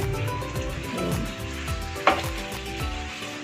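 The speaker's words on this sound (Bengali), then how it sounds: "লাল করে একটু ভাজবো।" Aloo paratha frying in oil in a pan with a soft, steady sizzle, broken by irregular scraping and pressing sounds and one sharp clink of a utensil near the middle.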